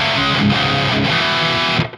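Electric guitar played through a Bondi Effects Sick As overdrive pedal at high gain, a thick, sustained distorted chord ringing loud and steady before cutting off abruptly near the end.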